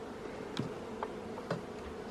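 Honey bees buzzing around hives at an autumn apiary, with a few individual bees passing close by in short rising whines over a steady low hum of the colony.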